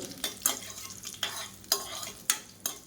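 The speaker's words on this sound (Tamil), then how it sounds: "எல்லாமே நல்லா பொரிய ஆரம்பிக்குது." Whole spices and curry leaves crackle in hot oil with a soft background sizzle, punctuated by several sharp pops and spits at irregular intervals.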